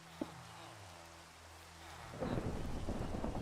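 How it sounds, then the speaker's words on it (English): Thunder rumbles through a Minecraft thunderstorm: a low rolling boom swells after a quiet stretch and keeps on loudly over a steady wash of rain. "I heard that thunder."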